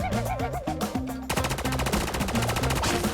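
Rapid automatic gunfire in the Call of Duty Mobile video game, dense bursts of shots over looping game music, loud and continuous with no talking.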